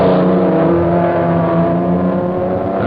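A Gremlin race car climbs the 1972 Knox Mountain Hill Climb in Kelowna, BC, with a loud, steady engine drone held at a high pitch and no talk over it.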